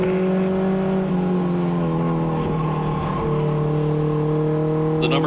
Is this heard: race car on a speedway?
yes